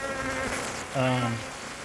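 Honey bees buzzing during a hive inspection of a lively colony with a well-populated brood box, a steady droning hum that swells louder midway before settling back, close to the open frames.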